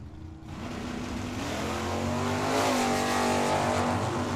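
A drag racing car launches off the line at Tucson Dragway, a loud sustained roar that builds steadily in intensity with no voices over it.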